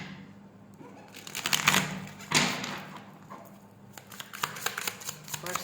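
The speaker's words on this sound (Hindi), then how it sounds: "टैरोट के कार्ड्स निकालती हूँ, फिर देखते हैं।" Tarot cards drawn from a deck and shuffled, giving soft papery riffles and flicks that rise in two bursts, then a run of light taps and card snaps near the end, close by with no talk.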